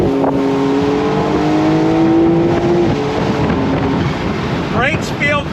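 A Porsche 911 Carrera S of the 992.1 generation with a PDK gearbox pulls hard on throttle, its engine tone rising steadily under heavy wind and road noise, with a quick gearshift change near the end.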